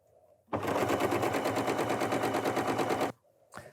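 A Janome 9480 sewing machine stitches quilt patches together in a fast, steady mechanical rattle that starts abruptly, runs for about two and a half seconds close up, then stops, with quiet room sound before and after.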